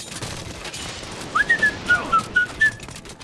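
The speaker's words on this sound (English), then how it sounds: "He's got dwarves over here working on it, but they only just started whistling while they work." Short melodic whistles from working dwarves in Age of Mythology Retold ring out in a quick run of about seven rising and falling notes, clear over a low rumble of battle noise.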